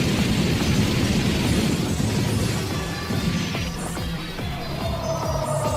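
Explosion of Mizar in an anime, a dense rumbling crash with scattered debris cracks and pops that thin out and fade toward the end, loud and continuous with no voices.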